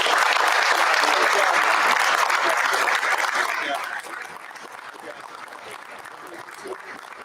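Families and attendees at a school board of education meeting applaud students, loud sustained clapping for about four seconds that then drops off, leaving quieter room noise and murmuring voices.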